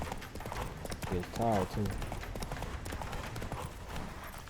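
Hoofbeats of a ridden horse clip-clop in a steady rhythm in The Witcher 3, heard under someone talking close to the microphone.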